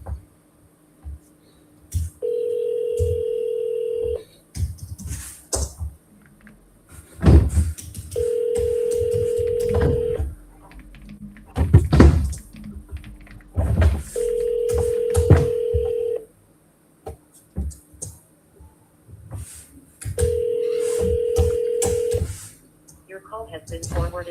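An outbound sales call rings repeatedly on a phone line, four steady two-second ring tones spaced evenly apart, loud and clear, with brief talk and clicks between the rings.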